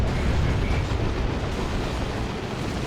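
Stick bombs go off in Dawn of War 2, a Warhammer 40,000 strategy game, in a dense, continuous rumble of game explosions and heavy blasts that fills the whole stretch with no talk.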